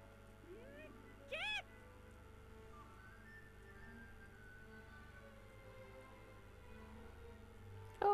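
A cat meows twice in Gravity Rush Remastered, once short and clear near the start and again at the very end, over a quiet game background with a voice speaking faintly.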